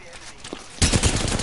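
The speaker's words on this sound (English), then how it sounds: "Getting shot at." Gunfire in a first-person shooter game erupts suddenly partway through, a loud, dense rapid burst of shots that continues to the end after a quieter stretch.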